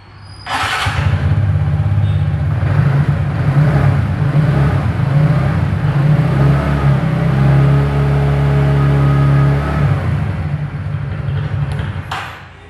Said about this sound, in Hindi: तो यही थे इसका एग्जॉस्ट साउंड